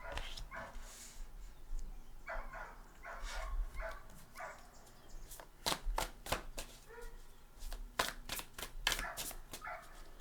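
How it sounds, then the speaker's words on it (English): A dog barks in short bursts at a moderate distance, mixed with sharp clicks and shuffling noises, with no one speaking. "I never understood how people just allow their dogs to sit there and bark and bark and bark"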